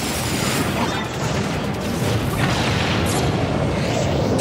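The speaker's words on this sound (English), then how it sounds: "The missile's accelerating. It's gonna hit the gate." In Super Smash Bros for Wii U, a missile strikes an orbital gate, setting off a loud, dense, roaring explosion with crashing debris. It fills the whole stretch at full volume, with game voices mixed in.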